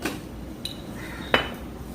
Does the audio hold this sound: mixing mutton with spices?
yes